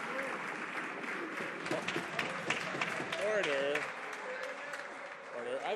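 Members of parliament applaud in the House of Commons, a steady wash of clapping and desk noise throughout, with a voice calling out over it midway.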